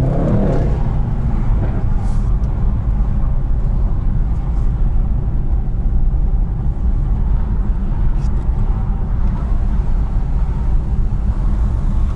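A Mercedes E63S 4-Matic+ engine drones steadily at close range while driving, a deep continuous rumble that holds for several seconds without pause.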